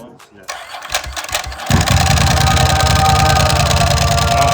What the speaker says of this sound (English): the 999 roared to life with that dry clutch sound and the exhaust note